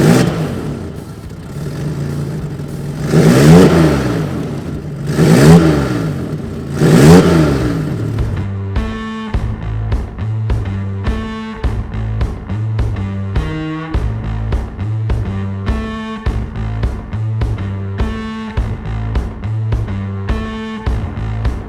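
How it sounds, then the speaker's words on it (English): A 1989 Toyota Pickup fitted with a new exhaust revs loudly three times, each swelling and falling, then settles into a rough, loud, rhythmic idle that pulses steadily. "So I'll jump in the truck, fire it up just so you can see what it sounds like"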